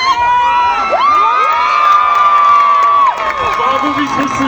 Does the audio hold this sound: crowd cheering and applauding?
yes